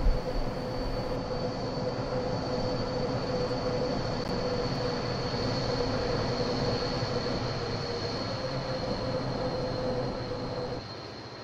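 An F45 locomotive-hauled AI train passing in Train Simulator 2021, a steady, continuous rumble of wheels and engine with a faint high whine holding at even loudness throughout, no voices.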